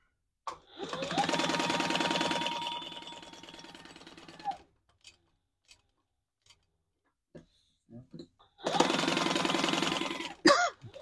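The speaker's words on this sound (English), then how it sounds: "So this we're just going to stitch all the way around, baste all the way around." A sewing machine stitches a sling bag's lining and outer piece together, running steadily for a few seconds, pausing through small clicks and handling noises, then starting again for a second run.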